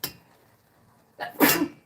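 A single loud sneeze with a short intake before it, near the microphone, following a faint click at the start and a quiet pause.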